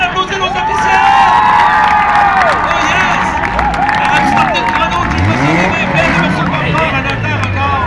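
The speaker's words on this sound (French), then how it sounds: "Mesdames et messieurs, on applaudit nos officiels." A crowd at an autumn enduro motorcycle race cheers and claps for the officials amid loud, rising and falling engine whines from passing bikes, with chatter and babble mixed throughout.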